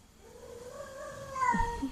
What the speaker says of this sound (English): Oh, that's how OG meowed